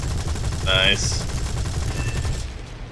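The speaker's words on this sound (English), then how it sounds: "I'm about to nosedive right on top and unleash my cannons." Aircraft cannons fire in a diving attack in the video game War Thunder, a rapid, steady rattle over engine noise, with a brief spoken word partway through.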